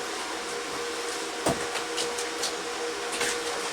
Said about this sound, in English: Noisy bugger, not a very good compressor this one.